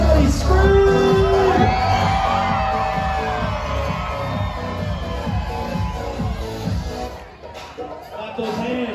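Crowd at a New Year's Eve celebration at Disney Springs screams and cheers in a loud, sustained roar with whoops and shouts, easing somewhat toward the end.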